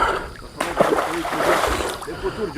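Large katla fish leaping and splashing in open water, a burst of splashing and sloshing close by, with people talking over it.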